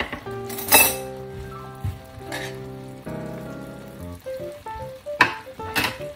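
An onion steak sizzles in a pan with butter and soy sauce, a soft frying hiss mixed with clinking utensil taps and stirring as the sauce coats the onion.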